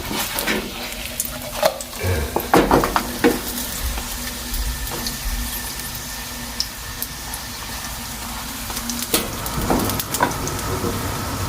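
Shredded cabbage, egg and shrimp fry in a hot pan with a steady, loud sizzle, broken by occasional sharp scrapes and clanks of a spatula.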